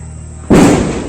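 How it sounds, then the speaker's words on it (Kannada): A single loud Diwali firecracker burst erupts after a quiet moment, its crackling blast trailing off over the next half second. "ಓ ಇದಾ ಈ ತರ ಪಟಾಕಿ."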